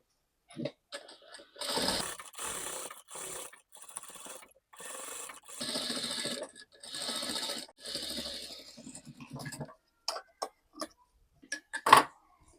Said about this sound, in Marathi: आता आपल्याला साईडनं शिलाई मारायची